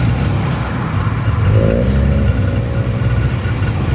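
Motorcycle and traffic engine noise on a busy Bangkok street, a steady close rumble with a brief revving swell in the middle, continuous throughout.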